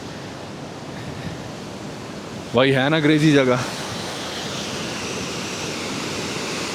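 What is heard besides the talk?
rushing mountain water under pressure at Sach Pass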